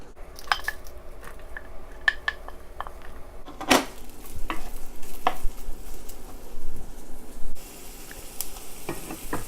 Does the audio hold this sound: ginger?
yes